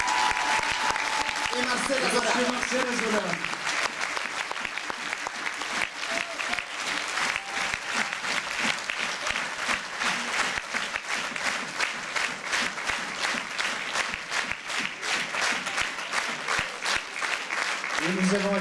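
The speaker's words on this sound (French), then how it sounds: "je vous demande d'applaudir encore une fois vraiment Lina Bossati." Sustained audience applause at a folk dance festival fills the whole stretch, steady and dense, while someone speaks French over it through a microphone, his voice riding on top of the clapping crowd.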